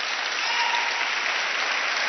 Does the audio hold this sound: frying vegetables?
no